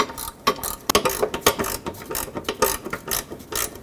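Ratcheting clicks from a wrench tightening a bumper bracket bolt on a 2011-2016 Ford F-350, a quick irregular series of sharp mechanical ticks, close and fairly loud, with no talking.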